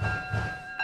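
A train running in a train simulator game, with a low rumbling engine chugging in two slow pulses under steady tonal whine from the locomotive, closing with a brief hissing release.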